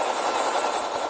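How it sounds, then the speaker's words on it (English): A stealth chopper helicopter in a shooter video game gives off a steady, loud, whirring rotor drone that holds constant throughout, with no speech over it. "hostile stealth chopper inbound"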